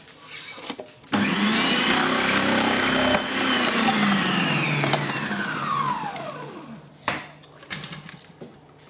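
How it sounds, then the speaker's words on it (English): A Kitchen Whiz food processor slicing cucumbers, its motor starting abruptly into a loud, steady whirring drone that rises and falls slightly in pitch as produce is forced through, then cuts off with a few clunks. "Now some of them are a little bit fat for my kitchen whiz, so I'm just going to have to force it down."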